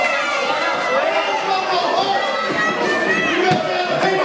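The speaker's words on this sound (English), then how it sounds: "the crowd calls him pee-pee pants" A wrestling crowd jeers and chants at Justin James during a tag-team match, a dense, steady wall of many overlapping voices with shouts rising from the din throughout.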